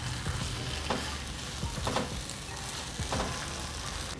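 Vegan sloppy joe mixture with barbecue sauce sizzles in a hot pan as it is stirred, a steady close fry with a few soft scrapes of the spoon and no talking.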